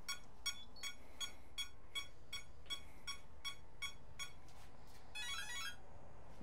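A Schubeler 93mm HST R/C electric ducted fan's speed controller gives a series of short, evenly spaced electronic beeps, followed by a quick rising warble of tones, clear against a low hum.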